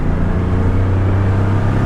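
A car engine roars loudly and up close as the vehicle peels out, a deep steady drone with strong low rumble throughout.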